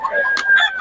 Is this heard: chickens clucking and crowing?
yes